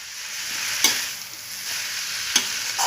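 Chowmein being tossed in a frying pan, a steady hiss of sizzling oil with two brief scraping stirs standing out, close and fairly loud with no talk.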